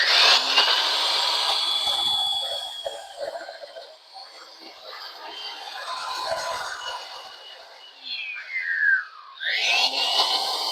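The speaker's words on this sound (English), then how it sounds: "I'm going to go ahead and fire up the belt sander and just smooth it on out a bit" A belt sander smooths an uneven spot on a build inside a 2015 Town and Country. It runs loud and close with a steady whirring roar, then dips and surges as it bears on the surface.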